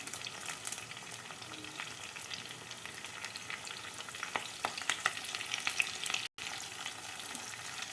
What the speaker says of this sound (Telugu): ఒకసారి తిప్పుకుందాం అది వేగిపోయింది